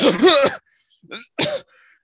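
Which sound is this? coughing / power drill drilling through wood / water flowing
coughing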